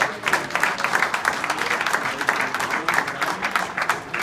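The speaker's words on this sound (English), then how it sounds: "Let's give them a round of applause, okay?" Lively audience applause at a mayoral Black History celebration honoring hip hop pioneers, with distinct individual claps pulsing through a full, fairly close crowd sound for several seconds.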